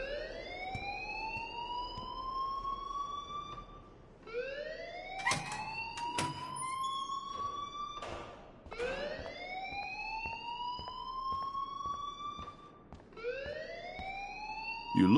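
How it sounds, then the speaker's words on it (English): A video game alarm wails in rising electronic sweeps, four repeated cycles that are loud and continuous with a few sharp clicks between them. "please turn off that alarm since that's your job"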